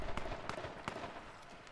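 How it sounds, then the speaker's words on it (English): Distant gunfire crackles during an H1Z1 King of the Kill match, a few sharp pops spaced irregularly over a steady game background. "there's some shots going off there"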